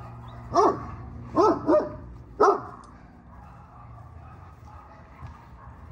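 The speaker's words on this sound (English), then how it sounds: "This is not a little dog." Duke, a big dog, gives four deep, loud barks in quick succession close by, then the room falls quiet apart from faint background noise.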